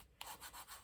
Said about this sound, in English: just get my bone folder and just really give that a good old rub